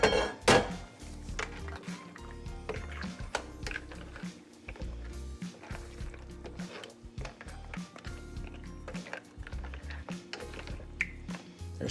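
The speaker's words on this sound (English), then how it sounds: "they're starting to pop now, so let me give it a little stir" A spoon scrapes and clanks against a pot of cioppino as the clams pop open, giving a long run of irregular metallic knocks and clinks with no talking.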